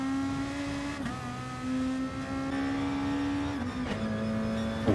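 Racing car engine in Gran Turismo, a steady high-revving drone with sharp pitch drops at each gear shift, heard alone and up close from outside the car.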